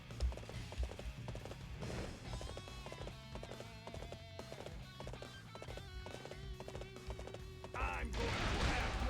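Horse hooves galloping in the Dynasty Warriors 8 video game, a quick, steady clopping rhythm under battle music and game effects, with a brief burst of noise near the end.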